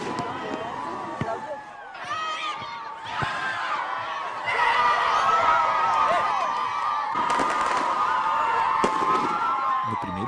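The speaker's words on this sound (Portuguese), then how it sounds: "E a torcida do Nacional veio em peso e fazendo barulho." Nacional football supporters in Acapuri de Cima at a heated local derby against Bom Sucesso, a dense roar of crowd noise with sharp bangs and cracks, swelling louder partway through and staying thick and continuous, with voices mixed in.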